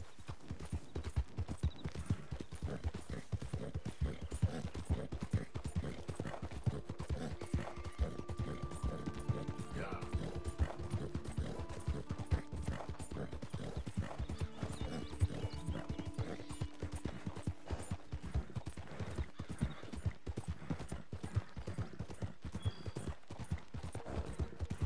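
Horses gallop in Red Dead Redemption 2, a rapid unbroken clip-clop of hooves from several animals with occasional neighs, steady and moderately loud throughout.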